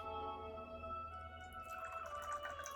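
Hot British tea poured from a pot into a matching china cup at a jubilee tea party: faint, quiet drips, then a soft, trickling pour of liquid in the last second or so.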